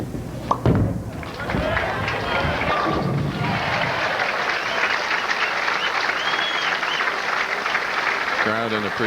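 A bowling crowd at a professional tournament in Las Vegas bursts into loud, sustained applause after a 237 game, clapping steadily throughout with a few thuds near the start.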